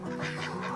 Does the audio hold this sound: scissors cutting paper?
no